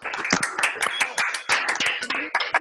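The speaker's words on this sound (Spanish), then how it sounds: "Vamos a aplaudir todos, aplaudamos todos al mismo tiempo." Online event audience applauding together, a dense patter of irregular claps from several people, close and moderately loud throughout the short stretch.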